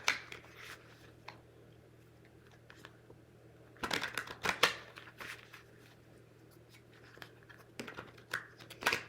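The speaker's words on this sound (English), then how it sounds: "Give them a good shuffle and just see what they're going to point to today." A vintage deck of cards being shuffled, with bursts of riffling and crisp card flicks around the middle and near the end, quiet handling rustles between them, close and fairly faint with no talk.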